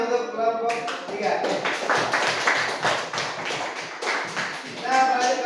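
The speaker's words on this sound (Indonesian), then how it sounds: "Tepuk tangan untuk kelompok 3." A classroom group claps for a student team after its presentation, a scattered run of hand claps mixed with voices talking throughout.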